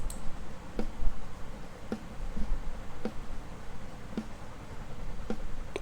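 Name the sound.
unmixed snare drum stem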